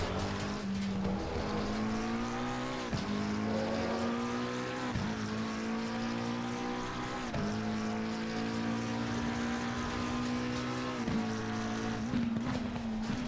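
A McLaren 720S GT3 race car engine howls steadily at Zolder in the Assetto Corsa Competizione sim, with sustained high revs broken by brief dips at gear shifts, loud and continuous throughout.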